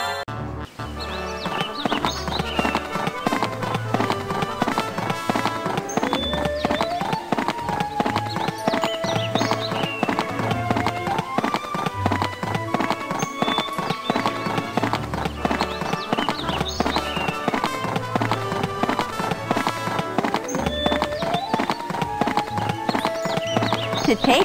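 Horse hooves clip-clop steadily in the Barbie Riding Club video game, a continuous rhythmic gait running beneath a busy music track.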